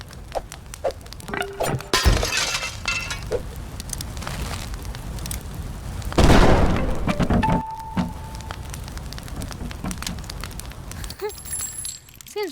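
Gas cans blowing up in the video game Kill It With Fire: several sharp blasts and bursts of crackling debris, two larger explosions standing out amid game effects and brief tones.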